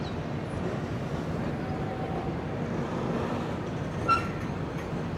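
The 16312 Sriganganagar Express rolls into Merta Road Junction station, heard from on board as a steady low rumble and rattle of the carriages, with a brief clank near the end.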